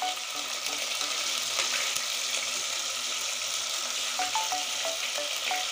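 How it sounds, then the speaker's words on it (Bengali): Chili paste with ginger and garlic frying in a pan for a Bengali chicken curry, a steady loud sizzle throughout with a few light tapping sounds. "এখন আমি সুন্দর করে ভেজে নেব।"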